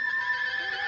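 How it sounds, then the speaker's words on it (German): A horse whinnies once, a brief high-pitched neigh heard clearly and on its own. "Ich hörte Gewieher."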